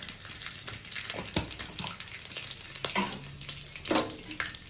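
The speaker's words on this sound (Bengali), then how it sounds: "দুটো এলাচ দিয়ে আর দারচিনি দিয়ে তেলের উপরে দিয়ে দিচ্ছি আস্তটা" Whole cardamom pods and cinnamon dropped into hot oil crackle with a soft, fairly quiet sizzle, joined by occasional stirring clicks and light clatter, with no voices.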